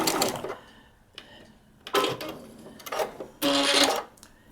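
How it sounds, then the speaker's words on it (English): A sewing machine stitches a 1/4 inch seam allowance on a paper-pieced quilt block, running in several short close bursts separated by brief pauses. "I'm going to stitch down this 1/4" seam allowance, removing the pin before I get to it."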